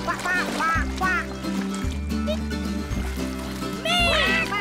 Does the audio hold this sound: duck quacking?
yes